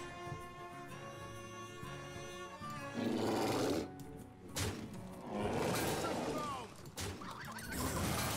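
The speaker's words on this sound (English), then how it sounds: "I have a Gurubashi chicken" Gurubashi Chicken card effect in the Hearthstone video game, with squawking, gobbling and roaring bursts that come and go over steady game music.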